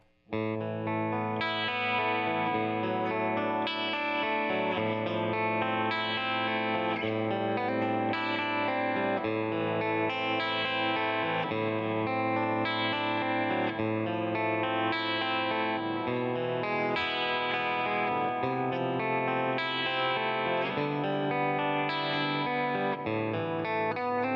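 Guitar through an Old School FX Miss Turpentine delay pedal, sustained chords smearing into a continuous ambient wash of repeating echoes that gradually blur and degrade, with no talking.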